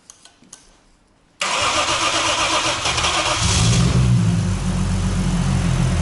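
A Toyota Verossa engine fitted into a Nissan 180SX drift car cranks after a quiet pause, catches with a sudden loud roar, then settles into a steady, slightly rising idle close by.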